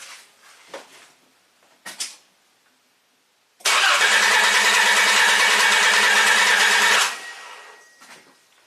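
Car engine cranked with a jump starter's boost and fired up: a few faint clicks and knocks, then a loud, sustained engine roar for about three seconds, close by, before it fades.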